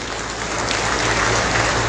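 A crowd claps steadily at an outdoor rally in Bilaspur, a dense, even wash of applause held at full strength for the whole moment.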